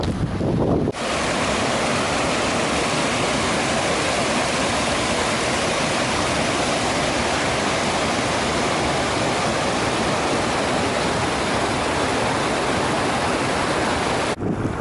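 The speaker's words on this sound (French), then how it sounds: "Le passage de rivière." Steady, loud rushing of a river fills the whole stretch at a hiking-trail crossing, a dense continuous roar of water running close by.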